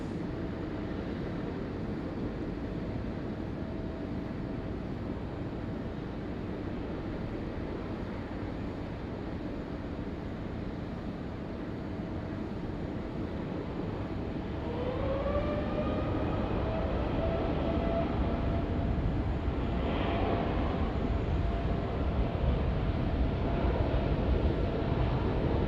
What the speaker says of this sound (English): All right, Japan Air 52 cleared for takeoff on runway 16 right.